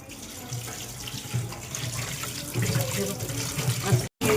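Raw chicken being rinsed under cold tap water in a kitchen sink, a steady close splashing rush with a low hum beneath, briefly cutting out near the end.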